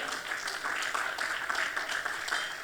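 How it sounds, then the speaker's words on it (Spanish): Congregation applause during a sermon in a church, a soft, steady patter of many hands clapping at a distance, fairly faint but continuous throughout. "¿Alguien puede darle un aplauso al Señor por María?"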